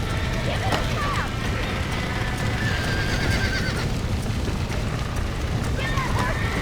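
Several loud neighs and whinnies from a horse in the video game Red Dead Redemption ring out over constant pounding hoofbeats and rumbling game noise.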